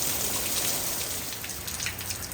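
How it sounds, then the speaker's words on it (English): Steady rain pours and patters on leaves, with wind moving through palm trees during a California storm, a dense continuous wash of drops up close with no talking. "Something tropical about watching them trees in the wind with the rain"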